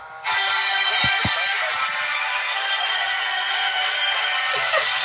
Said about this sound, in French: C'est pas mon téléphone qui sonne, hein?